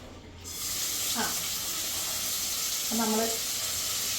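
Vegetables with lentils (dal) sizzling in a hot pan, a steady hissing sizzle that runs through the clip, with a voice talking over it at moments.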